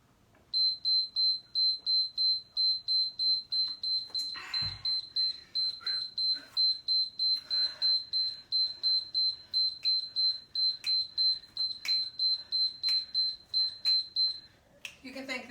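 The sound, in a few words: workout interval timer beeping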